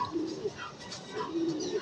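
Racing pigeons coo softly at the loft after a first training flight, a few low rolling coos close by, repeated in a slow loose rhythm.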